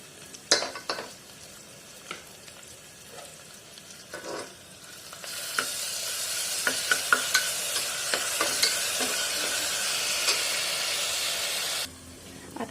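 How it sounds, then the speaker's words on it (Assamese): Onions frying in a pan, a few scattered spoon knocks before a loud burst of sizzling when ginger garlic paste goes in, then a sustained hiss with repeated stirring scrapes that cuts off near the end. "এতিয়া মই ইয়াতে দি দিম অকণমান আদা নহৰু পেষ্ট।"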